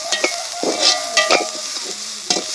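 Crushed garlic and ginger frying in a pan with little oil, stirred in a few distinct scraping strokes over a steady close sizzle.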